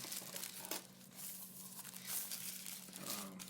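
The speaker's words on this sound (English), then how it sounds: "It's nice in a nice sealed plastic bag, so there's no scratches on it." Close, continuous crinkling of a sealed plastic bag holding an Anker AH240 hub being unpacked, with a sharper rustle near the start and another toward the end.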